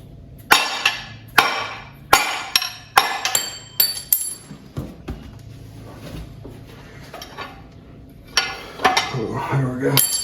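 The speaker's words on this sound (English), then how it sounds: "I'm gonna take the rubber hammer and hit it." A rubber hammer strikes a ball joint to drive it out of the front upper control arm on a GM A-body car, several sharp thuds in an irregular series, then a pause and metallic rattling.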